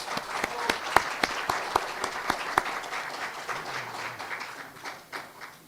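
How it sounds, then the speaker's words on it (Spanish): Applause from an audience, a scattering of distinct claps at first that settle into a steady, continuous patter. "al cual pido un aplauso, por favor."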